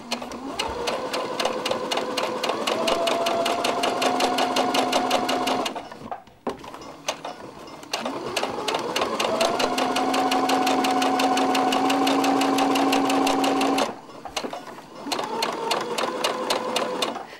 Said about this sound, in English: I'm now going to turn it over and stitch the other